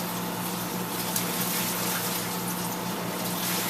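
Rinse water poured slowly from a bucket into a Panda portable washing machine, a steady broadband gushing and splashing that runs continuously and fairly close, with no talking.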